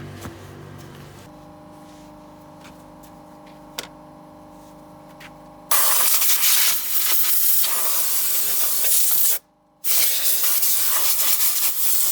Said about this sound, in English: I'll get the air compressor on and we'll give all that a real good blow out